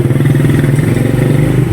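Motorcycle engines drone loudly and steadily close by as bikes pass on a street, a continuous rumbling roar with no break and no talk.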